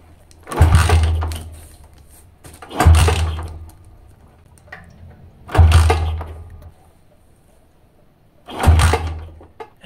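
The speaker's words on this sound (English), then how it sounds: "Now, start it with kickstarter, or if you have an electric starter, you can use it too. I'm gonna start with the kickstarter." A motorcycle being kick-started during a no-spark check on the ignition pickup, four separate bursts of cranking roughly every three seconds, each a short, heavy thud-and-rattle that dies away without catching, close by and with no talk.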